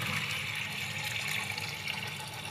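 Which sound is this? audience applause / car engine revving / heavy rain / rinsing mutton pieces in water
rinsing mutton pieces in water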